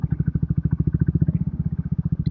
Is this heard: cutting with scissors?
no